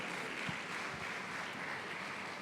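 Congregation clapping during a church family service, a dense, even wash of applause held at a steady level throughout, with no voices standing out.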